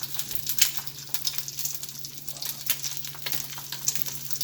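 An egg fries in oil in a pan for a quesadilla, giving a soft continuous sizzle and crackle with small pops, moderately quiet and close, with no talk.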